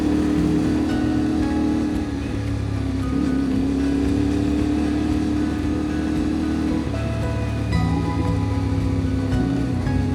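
Motorcycle engine droning steadily while cruising in third gear on a cliffside mountain road, with constant wind and road rush close and continuous.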